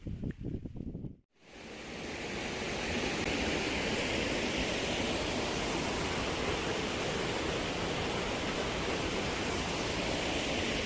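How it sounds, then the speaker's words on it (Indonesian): The Bidadari waterfall, a man-made, dam-like cascade, gives a steady, dense rushing roar after a brief quieter moment at the start, with no voices. "rupa-rupanya ini yang mereka sebut air terjun Bidadari. Semacam bendungan ya, bahkan buatan tangan."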